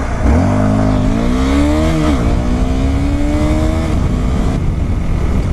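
A Honda CBR250R motorcycle engine on a test ride drones loudly and steadily, its pitch climbing as it accelerates, easing briefly, then climbing again with no talking over it.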